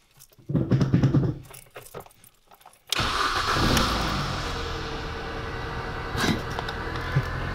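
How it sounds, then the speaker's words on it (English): A Mini Cooper's starter cranks briefly after some faint clicking, then the engine catches with a sharp rise and settles into a steady close idle, with a small rev bump near the end. "the engine is not running right now, so I will turn it on"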